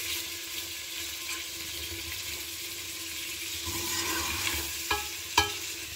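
Steady sizzle of Kashmiri marchwangan korma frying in a pan with a couple of sharp scraping clacks from stirring near the end.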